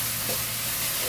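Masala spice mix and onions sizzling steadily in a pan over a wood-fired stove for Kolhapuri chicken, a continuous close frying hiss with faint stirring.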